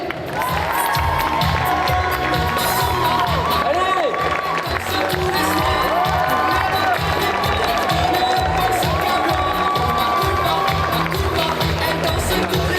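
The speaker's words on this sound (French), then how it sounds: "Alors je vous demande d'applaudir Pat et Julien Châtelet." Crowd at a French fan convention conference cheers, shouts and applauds as two speakers arrive, a loud continuous roar with whoops and voices calling over it, joined by rhythmic music.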